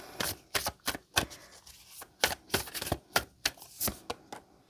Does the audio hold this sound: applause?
no